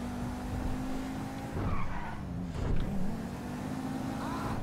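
A powerful, loose-steering car in the video game GTA V skids and squeals its tires over a continuous engine drone, with surges of sliding noise in the middle of the run.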